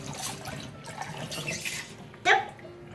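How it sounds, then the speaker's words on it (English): Raw chicken is rinsed in a kitchen sink with vinegar and lemon, giving soft running and sloshing water with a brief louder splash near the end, under faint background voices. "Alright, Latrell, so let's wash this chicken."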